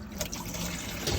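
Warm water runs steadily from the sink tap in an Autocruise Jazz motorhome, a continuous close splashing trickle with no pauses over its short length.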